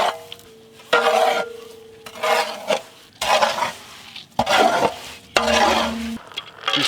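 White chocolate being mixed for kunafa chocolate, a spoon scraping and stirring in a bowl in uneven bursts of gritty rasping strokes with short pauses between, close and fairly loud.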